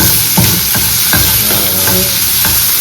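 Ivy gourd fry sizzles steadily in a pan while being stirred, with regular scraping strokes about every half second over a continuous frying hiss, close and loud, with no talking.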